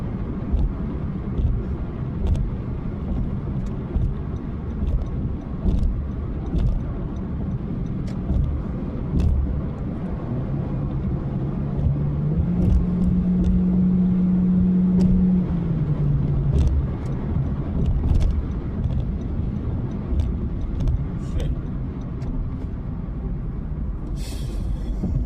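Car being driven aggressively, a steady loud engine and road roar from inside the cabin with a swelling rev in the middle, no speech.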